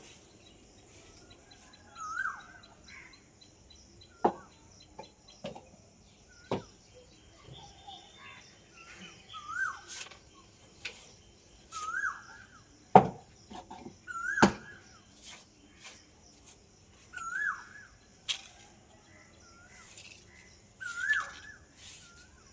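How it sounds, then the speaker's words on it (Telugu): Repeated short bird chirps every couple of seconds outdoors, mixed with sharp knocks and clatter nearby; no talking. "మీకు పక్షులు కిలకిల సౌండ్లు బాగుంటాయని చెప్పి ఉంచేసాను"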